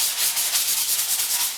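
Sandpaper rubs a wooden pottery wareboard stained with ingrained clay, giving a close, hissy, rhythmic scratching of quick repeated strokes with no voices.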